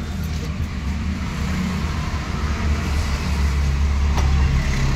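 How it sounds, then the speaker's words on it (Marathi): Trucks and trailers idle and pass at a roadside truck stop in Taloja, filling the air with a constant low engine rumble and road noise that swells slightly toward the end, with no talking. "माझ्या आजूबाजूला पूर्ण ट्रक आणि ट्रेलरच आहे"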